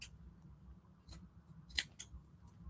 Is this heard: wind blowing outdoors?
no